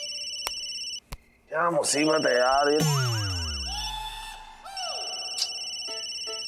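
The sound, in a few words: phone ringing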